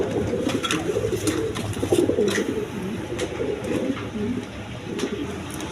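A pair of high-flying Giribaz pigeons and their squabs coo in continuous low, rolling murmurs, several birds overlapping nearby, with some faint clicks and shuffling and no talking.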